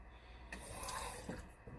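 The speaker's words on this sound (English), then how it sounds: "you just put a little bit of water in here" Water runs briefly from a tap into a small container being rinsed clean, a hissing splash that swells and then fades within a couple of seconds, close by and fairly quiet with no voices over it.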